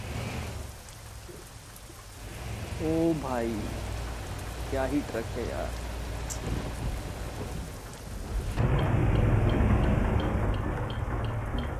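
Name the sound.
heavy rain and thunder in Euro Truck Simulator 2 video game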